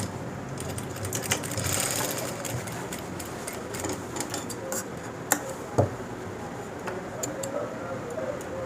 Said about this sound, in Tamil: இப்படி மிஷின்லேயே தைக்கணும்